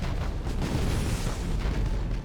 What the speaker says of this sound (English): Gonna give her a nice broadside from the main cannons.